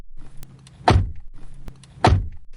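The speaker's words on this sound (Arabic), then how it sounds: "صوت خبط خفيف جاي من ناحية الحمام" Two light, dull knocks come from a bathroom in an apartment at night, spaced about a second apart, close and crisp against a quiet background.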